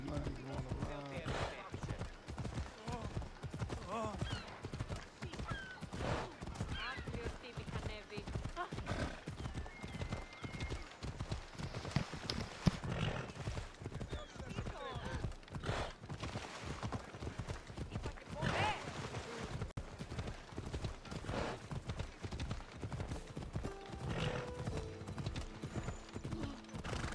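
Horse hooves clip-clop steadily in Assassin's Creed Odyssey, a fast even rhythm on a mountain ride, with whinnies, other game sounds and speech mixed in throughout.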